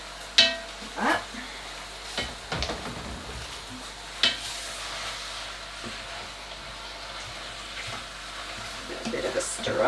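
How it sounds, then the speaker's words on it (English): A chicken casserole is stirred in a pot, giving intermittent scrapes and a few sharp clinks over a soft background hiss, moderately close and fairly quiet. "A bit of a stir up a little bit."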